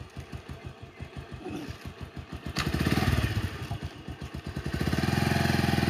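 A Bajaj Pulsar 150 (2024 model) motorcycle engine runs on a test drive, its single-cylinder thumping pulses steady and near, then rising into a louder, faster drone as it revs and pulls away.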